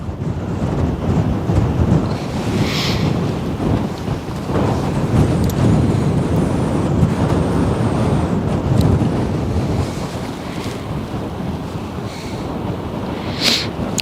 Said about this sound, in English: the wind is deciding to turn